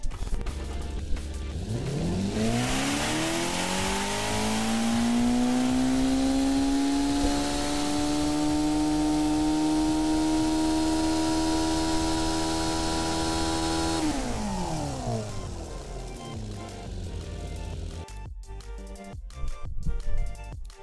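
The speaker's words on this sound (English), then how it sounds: "we're going to listen to the engine, and it can get quite loud" A car engine in the driving games Automation and BeamNG.Drive revs up and holds a loud, sustained, rising drone for about twelve seconds, then winds back down to idle, with no talking over it.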